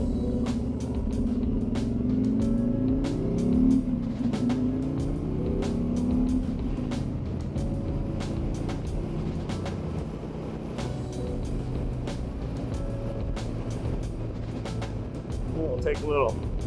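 A 2024 Harley-Davidson Freewheeler three-wheeled touring motorcycle rumbles steadily as it rides along a road, its low engine drone continuous and close under a rider talking throughout.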